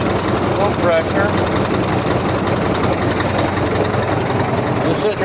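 A Caterpillar D4 bulldozer's pony motor, barely run in years and in need of a water pump rebuild, idles close by with a steady, loud, even chugging rhythm that holds for the whole stretch.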